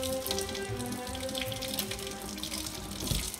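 Tap water runs steadily into a sink to wet 7000 grit sandpaper, giving a continuous close splashing hiss with no voices.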